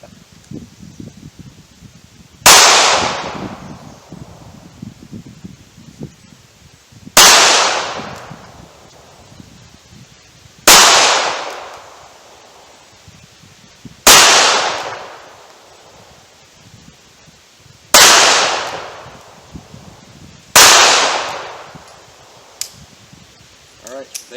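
Six sharp Ruger LCP handgun shots fired toward a 70-yard target, each a loud crack with a fading outdoor echo, spaced a few seconds apart with quiet rustling between.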